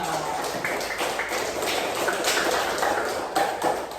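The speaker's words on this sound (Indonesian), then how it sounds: "Tepuk tangan untuk semuanya." Children clap together in a fourth-grade elementary school classroom, a loud, close patter of many small hands with uneven bursts and sharper individual claps scattered throughout, and no one speaking.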